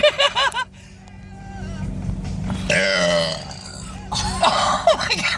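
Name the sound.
belching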